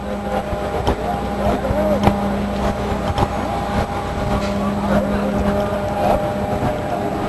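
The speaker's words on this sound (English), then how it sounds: "here comes the bus" A city bus pulling up for the Safe Ground homeless protest at the state capitol, heard as a steady engine hum with low rumbling and clanking close by outdoors, while people talk nearby.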